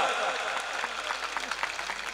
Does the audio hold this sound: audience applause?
yes